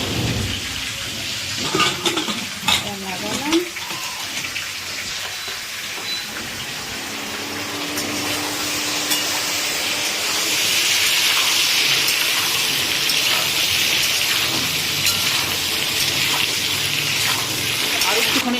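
Water pours steadily into a pressure cooker holding taro and potatoes with salt and a little turmeric powder. It begins as a soft splashing and swells into a louder, continuous rushing stream over the last half.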